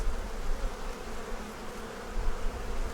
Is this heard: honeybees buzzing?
yes